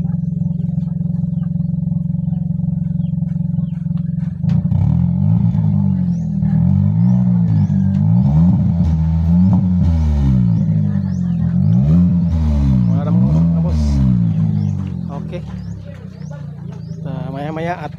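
A 2019 Hyundai Accent engine idling low, then revved repeatedly in a series of rising and falling surges, loud and close, with faint bird chirps in the background.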